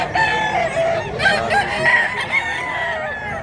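A rooster at a poultry expo crows loudly and close, a strained drawn-out call followed by clucking, with no talk over it.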